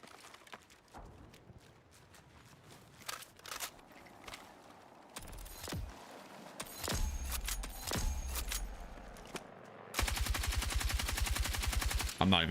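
Gunfire in the video game Battlefield REDSEC, including a big LMG, heard as scattered sharp shots and bursts, ending in a sustained rapid-fire stretch of loud automatic shooting, with a player talking in between.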